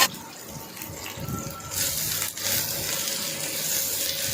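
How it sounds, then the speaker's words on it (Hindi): Onions go into hot oil in a frying pan, starting a sudden, rushing sizzle partway through that stays loud and close while low kitchen noise sits underneath. "ऑयल गरम होगा उसी वक्त हम इसमें डाल देंगे प्याज"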